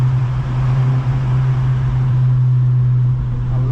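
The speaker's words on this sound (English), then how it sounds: "I love the sound of this car." An 8th-generation Honda Civic Si engine drones steadily at a low, even pitch while driving, with road and cabin noise around it and no talking.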